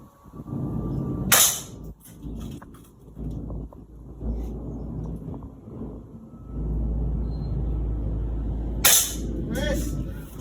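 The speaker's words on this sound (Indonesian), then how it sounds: "kita coba sebanyak 3 kali tembakan ya kak" Two sharp shots from a Cobra P60 PCP air rifle crack out several seconds apart over a steady low rumble and background noise.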